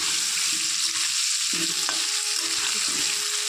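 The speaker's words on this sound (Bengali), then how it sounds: "আলুটাকে আমি একটু লাল লাল করে প্রথমে ভেজে নেব" Potatoes sizzle steadily in hot oil as they fry for a mutton curry, with a continuous bright crackle and a few soft stirring knocks, no voices.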